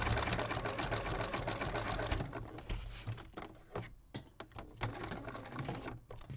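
A sewing machine stitches the bottom onto a handmade fabric basket, its needle running in a fast steady whir near and loud, then breaking into shorter stop-start bursts toward the end.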